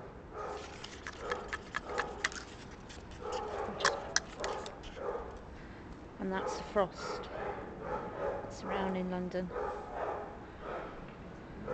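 Dogs whimper and bark in short yips and bursts on a freezing, frosty night in London, heard in scattered clusters under a person talking over them.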